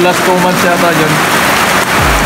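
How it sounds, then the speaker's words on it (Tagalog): Steady rain pours down in a backyard chicken yard, a dense continuous hiss close by, while a person speaks over it. "So guys, maulan ngayon."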